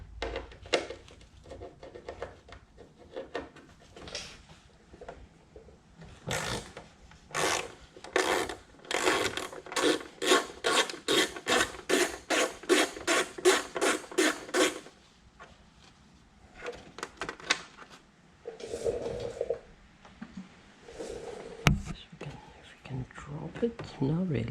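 A screw on a 2019 Triumph Thruxton R motorcycle fairing is turned out with a ratcheting tool, a fast run of close, rhythmic clicks, with someone talking quietly before and after.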